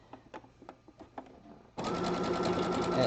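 A sewing machine runs steadily, stitching the folded elastic edge of a jockstrap; after a few soft taps and handling sounds, the motor starts and hums loud and continuous to the end.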